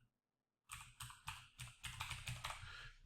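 Typing on a computer keyboard while entering a form description, a quick run of distinct keystrokes after a short silence, then denser continuous clatter, close and clear with no talking.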